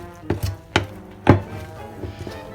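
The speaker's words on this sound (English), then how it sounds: "Get a wooden spoon and give it a mix." Trench cake batter is worked with a wooden spoon in a bowl, giving three or four soft, dull knocks and scrapes spaced out over a couple of seconds, close and fairly quiet.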